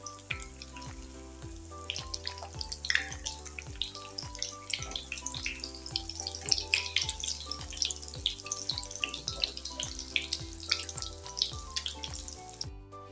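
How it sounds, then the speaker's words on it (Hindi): Lentil and potato kebabs fry in ghee over a medium flame, a crackling sizzle running steadily under a rhythmic background beat, with scattered pops and clinks as the kebabs are turned. "मीडियम फ्लेम पे इसे फ्राई करेंगे और अब इसे फ्लिप कर लेते हैं।"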